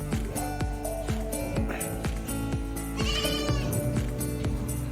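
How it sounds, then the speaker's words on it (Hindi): Goats of many breeds packed into a full pen in Saudi Arabia bleat over and over, a dense, close chorus of overlapping wavering cries with no pause. "हर नस्ल की बकरियाँ हैं भाई।"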